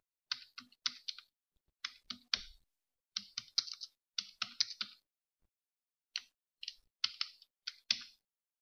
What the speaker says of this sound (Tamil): இப்போ நான் ஃபுல்லாகவே டைப் பண்ணிட்டேன்